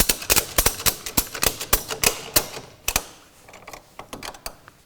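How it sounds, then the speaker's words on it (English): Strap ratchet cranked to tension a band around the belly of a drum on a pallet, a rapid series of sharp close clicks in a steady rhythm, thinning to softer scattered ticks at the end. "we operate our ratchet to tension the band."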